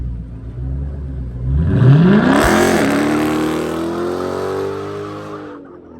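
A V6 Chrysler car with a newly installed loud exhaust revs hard nearby and pulls away, its engine note climbing steeply and then holding a roaring drone before fading.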